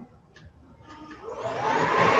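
A Pacific wide area vacuum cleaner with a brush switches on, its motor whine rising steadily from quiet into a strong, continuous whoosh over about two seconds, heard alone without speech.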